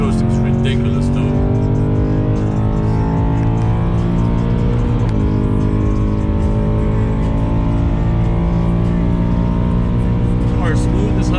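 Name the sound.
V8 car engine running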